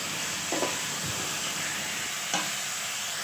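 Chicken pieces coated in roasted spice paste fry in a pan for biryani, giving a steady close sizzle and hiss, with a couple of brief stirring scrapes and no talking.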